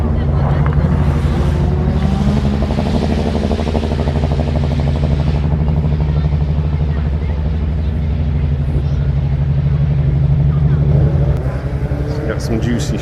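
Race cars at Lydden Hill circuit during timed Custom Cup laps, a loud sustained engine drone with gear changes throughout, close and steady, easing slightly near the end.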